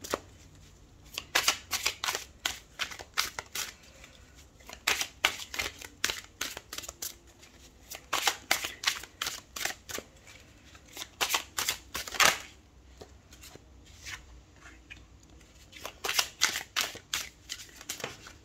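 Tarot cards shuffled, drawn and laid down by hand, a close run of crisp papery riffles and slaps in quick irregular bursts with short pauses between, no voices.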